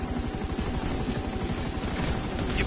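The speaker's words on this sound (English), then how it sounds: "That's a chopper." A helicopter in Grand Theft Auto 5 chops loudly and steadily, its rotor making a rapid, even pulse over a dense mechanical roar, close and unbroken with no speech.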